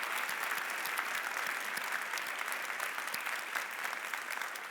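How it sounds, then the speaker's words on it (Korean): A church congregation at a Korean Thanksgiving Sunday service claps for the media and usher teams, a soft, even patter of many hands that continues steadily throughout, heard from a distance. "큰 박수 해주셨으면 감사하고요"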